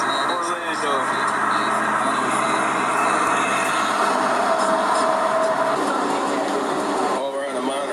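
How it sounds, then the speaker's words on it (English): Monorail train ride to the Magic Kingdom at Walt Disney World, Orlando: a continuous rumbling hum of the moving rail car with rattles, while people talk over it throughout. "we're on a monorail going to the Magic Kingdom"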